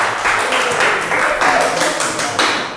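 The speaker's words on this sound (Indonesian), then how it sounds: "tepuk tangan untuk kalian ya" Students in a vocational high school classroom clap their hands together in a steady, rhythmic pattern of close, loud bursts for a few seconds.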